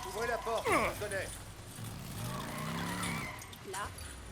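A car drifts and skids in the video game Days Gone, its tires squealing in rising and falling sweeps while the engine drones underneath; someone talks over the game sound throughout.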